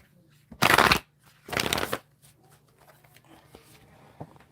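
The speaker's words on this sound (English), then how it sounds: "One last shuffle for Gemini." Tarot cards riffled and shuffled in two loud bursts close by, followed by softer card handling and light taps, with no voices.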